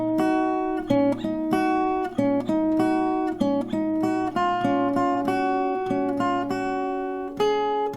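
Acoustic guitar picks out a chorus melody, crisp single notes over ringing strings in a steady rhythm, played close and alone.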